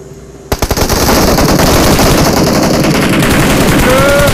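Loud, rapid automatic gunfire from a PUBG Mobile battle erupts after a brief quiet moment and then continues as sustained, close bursts.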